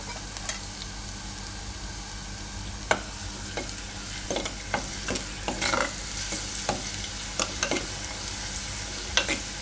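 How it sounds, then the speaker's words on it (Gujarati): Garlic and chilies fry in gently heated oil, a steady close sizzle broken by sharp scraping stirs every second or so, with no voices over it. "થોડું થોડું તેલ ગરમ થાય ને એમાં જ આને શેકવાનું"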